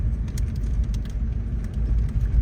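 A car driving slowly at night on a forest road through a campground, heard from inside as a steady low engine rumble and road noise, fairly loud and continuous.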